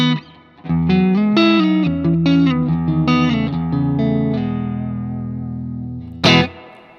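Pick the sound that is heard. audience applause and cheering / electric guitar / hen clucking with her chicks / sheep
electric guitar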